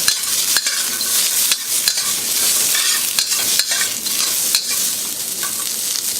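Celery, ginger and carrots stir-fry in a hot wok, giving a loud, continuous sizzle broken by repeated scraping and tossing strokes from the spatula.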